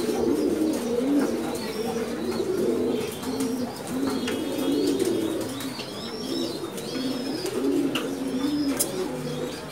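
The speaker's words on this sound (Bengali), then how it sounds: "অনেকগুলো কবুতর মাহফুজ ভাই সাজিয়েছেন তার লফটে" Many pigeons coo steadily in a breeding loft housing racing and high-flying birds, the low rolling calls overlapping continuously throughout, with a few faint chirps above.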